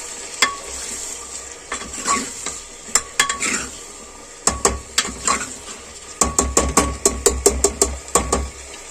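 A spoon stirs potatoes and peas roasting in a pan for rice khichdi, with repeated sharp scraping knocks against the metal over a faint sizzle, close and irregular in rhythm.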